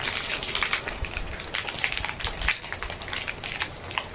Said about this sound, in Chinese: 我说又是狂风暴雨啊！